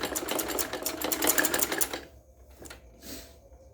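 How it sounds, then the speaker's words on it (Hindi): A sewing machine stitching the collar of a kurti: a fast, close needle rattle for about two seconds that stops abruptly, followed by faint handling sounds. "यहाँ से फोल्ड करते जाएंगे और यहाँ से सिलाई करके जाएंगे"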